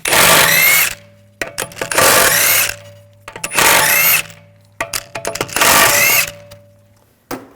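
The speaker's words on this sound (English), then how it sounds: "Using a 17mm socket, take the lug bolts off." A socket wrench spins lug bolts off the rear wheel of a 2006-2009 Audi S4, four loud whirring bursts of about a second each with short clicks and clanks between them, close by.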